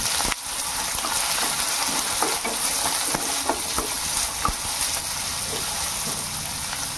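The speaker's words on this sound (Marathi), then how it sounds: "एक मीडियम साईजचा कांदा घेतलेला आहे. थोडा परतवा." A medium onion sautés in a hot pan, a loud, dense, continuous sizzle close by, with scattered ticks and scrapes from stirring and no talking over it.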